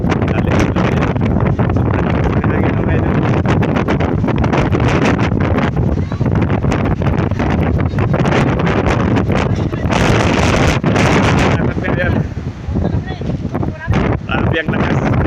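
Strong typhoon winds from Typhoon Uwan buffet the microphone in a loud, continuous roar with gusting surges and rattling, and a voice speaks intermittently beneath the din.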